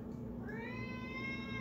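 A domestic cat meows in a drawn-out, rising call, close and clear, alone without talking, waiting for lunch.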